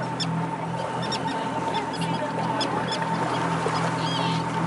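Birds around a boat give short, scattered chirps and calls over a constant low drone, with no one speaking.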